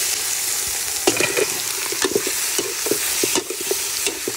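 Chicken sizzles loudly in a pan with ginger, garlic and onion, a constant frying hiss broken by repeated scraping stirs of a utensil.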